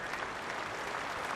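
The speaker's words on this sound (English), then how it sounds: "getting a great applause" Cricket crowd at Lord's applauding a batsman's century on his Test debut there, England versus New Zealand, a steady dense wash of distant clapping with no break.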